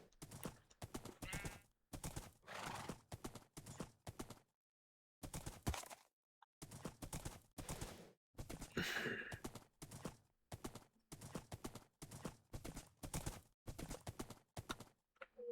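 Horse hooves clip-clop in Minecraft, a video game, in quick rhythmic bursts broken by short pauses, close and clear with no talk over them.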